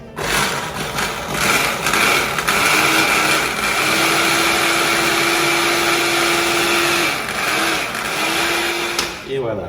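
A food processor whirs steadily as it chops cauliflower florets into rice-sized bits, a loud continuous motor drone lasting several seconds with brief pauses, and a voice speaks briefly over it.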